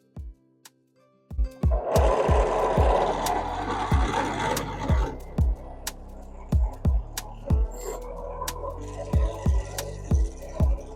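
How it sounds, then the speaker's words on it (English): A drill press whirs up to a loud, steady grinding roar as its bit bores into wood for a shot glass, then winds down; sharp knocks and taps punctuate it throughout. "we're at the drill press. I'm about to start drilling out the hole."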